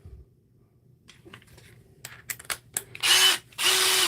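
DeWalt 12 volt cordless drill with a 3.0 battery: a few clicks and handling taps, then two loud, steady whirring runs close up, each lasting about half a second, separated by a brief pause.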